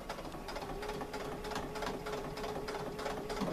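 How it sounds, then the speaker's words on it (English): A sewing machine stitches a zipper pouch, running steadily and close up with a brief reverse back stitch, the motor hum and needle patter continuous with no talking. "So I'm going to go ahead and stitch a little and then back stitch."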